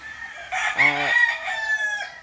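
A single loud crow from a Blueboone broodcock gamefowl rooster, close and strident, rising and falling over about two seconds.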